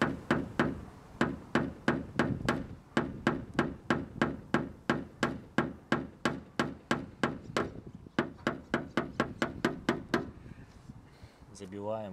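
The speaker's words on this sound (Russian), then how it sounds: "теперь мы пристукиваем сам вот этот вот пистончик снизу, чтобы он сел" Steady rhythmic hammer taps driving a clip for a VAZ 2101 Zhiguli sill moulding, dozens of sharp close knocks in even succession, quickening slightly toward the end, with talking under them.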